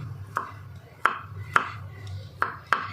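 A knife finely chopping crushed garlic on a board, five or six separate sharp chops spaced unevenly across a few seconds, close and fairly quiet with a low hum underneath.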